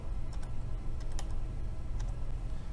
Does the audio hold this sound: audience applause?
no